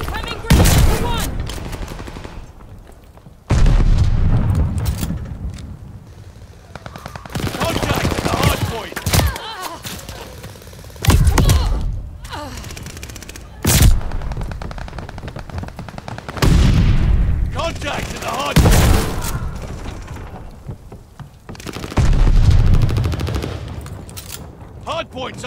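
Gunfire in Call of Duty: Vanguard during a Hardpoint match, loud repeated bursts of automatic weapon fire with booming explosions in between, mixed with in-game announcer voice callouts.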